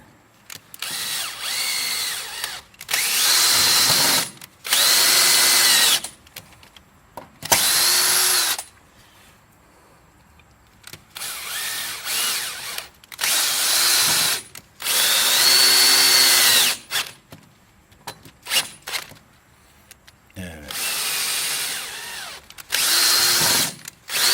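An electric drill whines in several loud bursts of a few seconds each, separated by short quiet gaps, close up with no talking.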